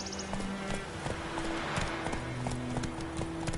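Horse hooves clip-clop in a steady galloping rhythm in Witcher 3: Wild Hunt, carrying on continuously under a layer of game ambience and music.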